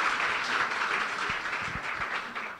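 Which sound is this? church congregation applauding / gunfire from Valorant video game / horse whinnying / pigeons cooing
church congregation applauding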